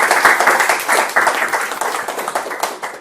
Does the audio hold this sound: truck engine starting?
no